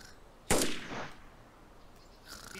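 A single sharp gunshot cracks out in the survival video game DayZ, loud and close, followed by a brief decaying echo and quieter rustling afterward, with no talking.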